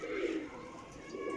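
Breeder pigeon pairs cooing nearby, two soft low throaty coos separated by a brief pause, with no talk over them.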